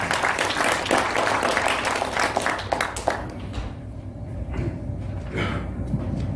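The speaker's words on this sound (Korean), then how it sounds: "박수로 환영해 주십시오" Audience applause welcoming a lecturer at a theology conference lecture hall, dense clapping at first that thins and fades toward the end, with a little murmuring.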